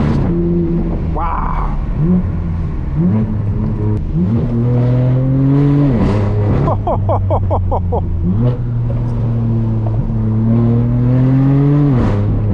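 Straight-piped BMW M4 F82 with a loud exhaust revs repeatedly from inside the cabin, the engine note rising and falling in long swells with brief crackles, while a voice exclaims once over it.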